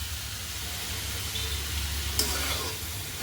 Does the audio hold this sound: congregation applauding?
no